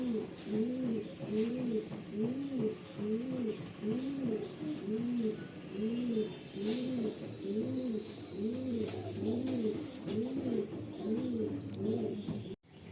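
Pigeons cooing in a steady, rhythmic series of close, resonant rolling calls, one after another for the whole stretch, with a few faint higher chirps above and no talking.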